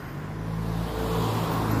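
Traffic rumbles along a narrow, cramped road, with a steady engine drone from cars going by close at hand. The sound is continuous and fairly loud, swelling slightly toward the end, and no one speaks.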